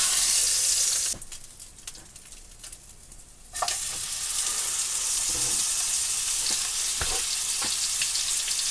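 Pork chops searing in a hot pan give off a loud, steady sizzle that fills the clip, dipping briefly before surging back, with a few sharp clicks and scrapes.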